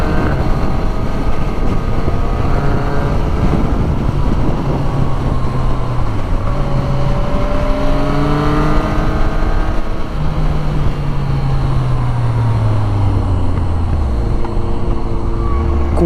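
A motorcycle engine with a quickshifter revs hard on a road ride, its pitch climbing and then dropping with each gear change over several pulls, heard up close under constant wind roar.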